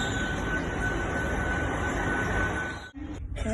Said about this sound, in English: Here's the train that will be taking us to Penzance, IET 800 321.